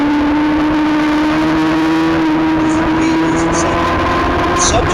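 Formula Femme race car with a turbo running at speed on a circuit, a steady engine drone and tone holding throughout, with a commentator's voice over it.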